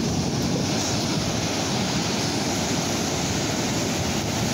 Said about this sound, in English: Cold ocean.